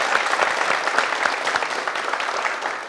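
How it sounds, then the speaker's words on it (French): Studio audience applauding a high school senior who has just passed the baccalaureate, on a French-language TV show: dense, steady clapping from many hands throughout, fairly close and even in level. "On peut l'applaudir?"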